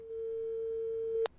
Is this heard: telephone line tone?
yes